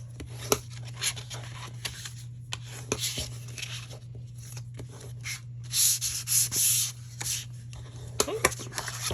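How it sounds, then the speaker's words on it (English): A bone folder burnishes along score lines on card stock for a small box, making repeated dry rubbing and scraping strokes that come close and clear, with no talking. "let's come in with a handy dandy bone folder and get this going. I'm just going to burnish along all of those score lines."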